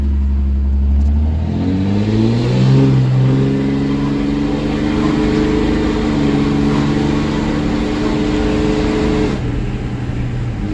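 A Cummins diesel truck with an 8-inch axle dump exhaust revs hard, the engine note climbing and holding a loud, rumbling drone close by for several seconds before easing off near the end, with no voices.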